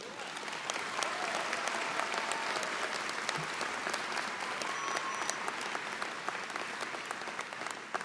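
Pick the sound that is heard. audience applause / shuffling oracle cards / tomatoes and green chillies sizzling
audience applause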